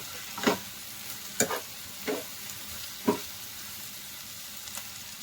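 Tomato pieces frying in a pan for an okra and egg fry: a low constant sizzle broken by four or five sharp stirring scrapes spaced about a second apart, close by.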